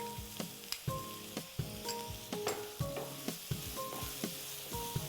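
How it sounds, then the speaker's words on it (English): Chopped ginger and garlic fry lightly in a pan with a close, steady sizzle. Sharp spatula clicks and scrapes against the metal come in a quick, uneven rhythm throughout. "We are going to lightly fry them because we are going to grind them later"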